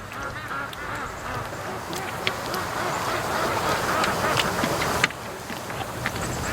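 A flock of pet ducks quacks steadily and close by in an outdoor yard, many overlapping calls forming a continuous chatter with occasional sharper honks, and a voice speaking faintly among them.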